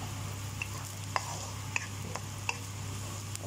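Egg fried brown rice with vegetables is stirred in a pan, a soft continuous sizzle with a few light scraping clicks of the utensil against the pan, close and fairly quiet.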